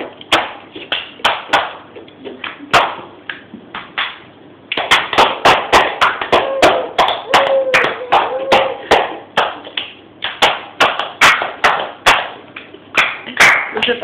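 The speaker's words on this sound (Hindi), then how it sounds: "ताली बजाओ" Hands clapping at a lively home gathering while someone dances, a steady run of sharp, close claps that keeps going for the whole stretch, with voices talking and calling out underneath.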